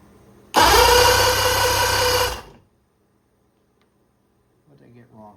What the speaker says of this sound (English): Now, we're going to spin the motor over.